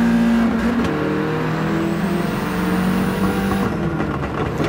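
Racing cars in a video game daily race, including a Honda Civic Type R EK9 and a Polo, engines whining and revving loudly with tyre and wind noise as cars jostle and pass.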